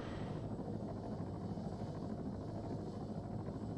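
A helicopter hovering in the ARMA 3 video game gives a steady, dense rotor and engine roar that holds at an even, loud level throughout, alone and with no voices.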